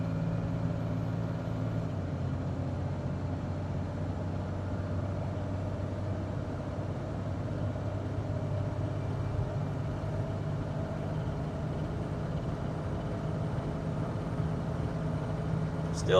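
A 12-valve diesel truck engine at full throttle gives off a steady low drone, held at constant loud cabin level with road rumble and no clear rise in pitch.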